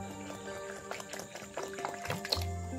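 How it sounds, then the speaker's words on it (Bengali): Water is poured in small amounts into salted flour dough for Kolkata-style egg roll wrappers, a faint close trickle and splash with scattered drips and light clatter in a quiet kitchen. "জল দিয়ে দিল ময়দাতে দিদি"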